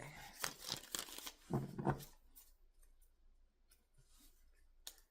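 Tarot cards are shuffled by hand, giving several quick crisp riffling and crinkling bursts early on, then quieter scattered clicks and taps, close and fairly soft.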